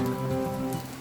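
Rain patters steadily on surfaces in a mountain village, a dense close hiss of drops that eases slightly toward the end, with no voices.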